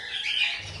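A pet cockatiel gives one short, harsh squawk, close and fairly loud.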